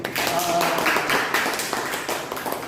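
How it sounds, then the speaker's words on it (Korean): Students clap in a classroom, a short burst of many hands patting close by in a quick uneven rhythm, with chatter and a raised voice mixed in underneath. "박수 좀 쳐주세요."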